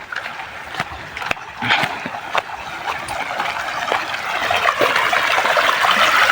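Water gushes and trickles out across a village farm field in Gujarat, a continuous rushing flow that grows steadier and louder, with occasional knocks and splashes close by.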